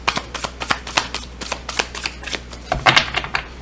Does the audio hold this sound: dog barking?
no